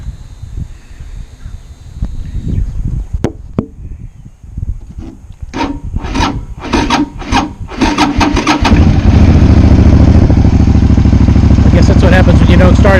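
A used motorcycle with a weak battery cranks several times in quick bursts, then catches and settles into a loud, steady idle that runs to the end; a voice is heard briefly before the engine fires.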